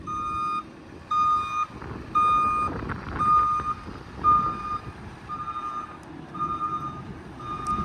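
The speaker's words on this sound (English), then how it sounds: "I'm now just going to pick this trailer up with reverse it out of the way so Andy can pull the next one in as soon as" Steady reversing beeps, about seven evenly spaced tones, sound from a farm tractor backing a trailer, with a rumbling engine and some clatter underneath, fairly close.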